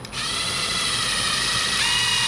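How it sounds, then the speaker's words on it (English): A power drill bores out a rivet in an L-shaped aluminum bracket for a custom SPAL fan shroud, a close, loud, continuous high whine starting abruptly with a slight pitch shift near the end. "This end, get this drilled out"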